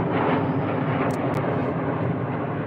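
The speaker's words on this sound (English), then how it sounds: "That airplane disrespectful." A fixed-wing airplane passes overhead above a backyard garden, a steady broad roar that stays loud and even throughout, with no talking.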